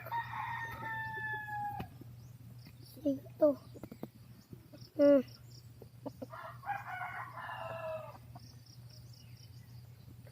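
Chickens cluck nearby while a rooster crows a few times, with people speaking briefly in between against a low steady hum.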